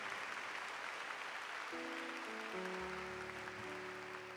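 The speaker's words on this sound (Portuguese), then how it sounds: "Então vamos aplaudir o nosso Deus que nos ama" A church congregation applauds during a homily, a steady wash of clapping from a large room with sustained organ-like tones entering partway through beneath it.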